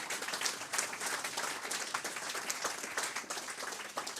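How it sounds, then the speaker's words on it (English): Faint applause from a hackathon audience at its final pitches, steady crowd clapping heard from a distance and at low level throughout. "These are the two guys we are going to applaud."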